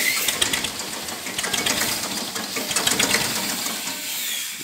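A 1989 Massey 35 tractor engine runs just after starting, a fast, even mechanical clatter with a rattly knocking texture, close and continuous with no talking.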